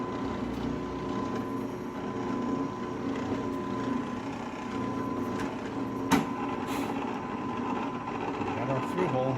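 A drill bores small through holes in a board, producing a steady mechanical whir and hum with a faint tonal whine and a brief sharp knock partway through, while someone talks over it.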